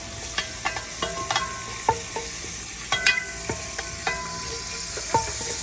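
Green chilies and curry leaves sizzle steadily in a pan outdoors, with a spoon scraping and stirring against the metal in irregular clinks and scrapes.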